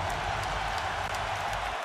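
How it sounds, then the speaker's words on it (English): A Lakers home crowd applauds in a big arena, a steady roaring wash of clapping and cheering that holds at an even level throughout with no talk above it. "Laker fans, give yourself a round of applause."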